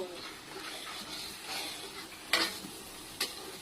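Onion with ginger-garlic paste and coriander powder fries in a pan, a soft steady sizzle broken by a few brief stirring scrapes, fairly faint and with no talking.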